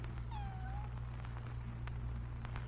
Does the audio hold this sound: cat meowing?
yes